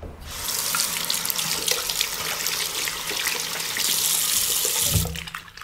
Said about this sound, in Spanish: lavarse las manos contando hasta 20 con mucha agua y jabón